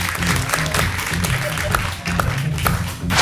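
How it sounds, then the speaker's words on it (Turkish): Studio audience applause on a Turkish late-night talk show, a dense sustained patter of many hands clapping at steady loudness over a short stretch. "Hanımefendiyi alkışlıyoruz."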